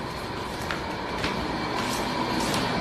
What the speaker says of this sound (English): That's the air conditioner.